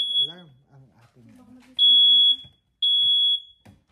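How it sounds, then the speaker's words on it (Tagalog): A fire alarm set off by heat gives two long, shrill electronic beeps after an opening chirp, loud and close, with a person talking quietly in between. "nag-alarm yung yung fire alarm kasi daw walang usok, pero yung init na naggaling dito"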